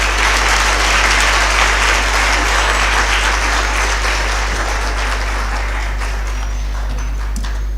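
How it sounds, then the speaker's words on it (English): Loud, sustained audience applause after a speech at a communication studies and public relations programme event, a thick roar of many clapping hands that slowly thins out, with a constant low hum beneath. "Another huge round of applause."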